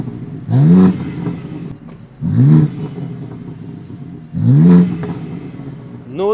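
A BMW M4 Competition fitted with carbon parts, its engine blipped in three sharp revs that rise and fall, loud and close, with a quieter idle rumbling between them.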